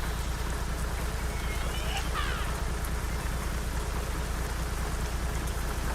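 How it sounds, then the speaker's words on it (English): Steady rain patters on a truck in American Truck Simulator, a constant dense hiss heard through an open window under a low engine hum, with a brief higher squeak partway through. "Open up the window, we can hear the rain."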